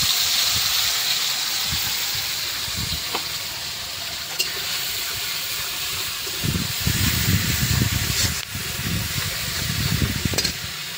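Mustard and green chili paste hitting a hot pan with eggplant cooking, a steady loud sizzle and hiss with occasional stirring clatter, close and without talk.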